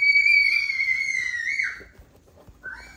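A high, excited little scream rings out loud and close, sliding slightly in pitch for about a second and a half before breaking off, followed by a brief rising squeal.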